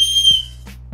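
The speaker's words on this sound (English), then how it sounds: "I put in a whistle because it's always a great emergency safety tool to have" A single sharp, shrill blast from a whistle built into a 3D printed multitool, loud and close, cutting off after about a third of a second, followed by a few soft handling knocks.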